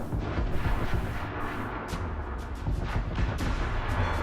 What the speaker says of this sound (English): Like mostly mortars.